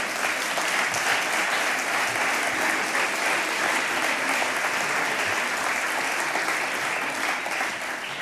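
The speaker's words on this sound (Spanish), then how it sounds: "otro aplauso para nosotros mismos" Sustained, dense applause from a large audience at the closing session of a social work conference in Aragon, steady and loud throughout with no voices standing out.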